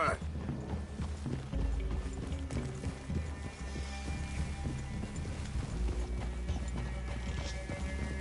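Horses in Red Dead Redemption 2 clip-clop along at a steady walk with an occasional whinny, forming a continuous hoof rhythm under voices talking in a wooded clearing.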